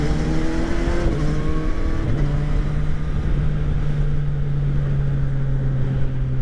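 A 2019 Kawasaki Versys 1000 SE motorcycle engine droning steadily in sixth gear at around 3500 rpm, a loud, continuous low hum with faint pitch shifts under rushing wind, no voices.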